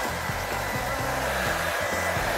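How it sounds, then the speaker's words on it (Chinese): Hair dryer running steadily on its scalp setting, a continuous close, loud whooshing airflow with a motor hum, unbroken for the whole stretch with no talking. "那我现在就先吹头皮模式"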